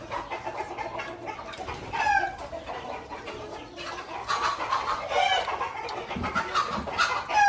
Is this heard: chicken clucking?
yes